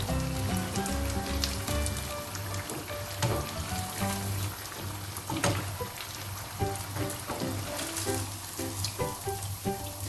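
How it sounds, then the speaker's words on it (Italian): Sardinian zeppole (is zippuas), a carnival dough, fry in boiling oil with a close, continuous sizzle and scattered crackles and pops, and no voices. "a versare le zeppole a cuocere nell'olio bollente"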